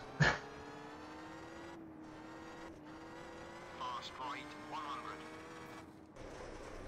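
A rally car in Richard Burns Rally drones steadily along a bumpy road. Its engine tone shifts with changing revs, and occasional jolts from the tracks in the road are heard under a continuous mid-level roar.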